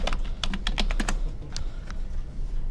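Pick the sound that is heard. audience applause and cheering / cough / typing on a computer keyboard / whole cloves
typing on a computer keyboard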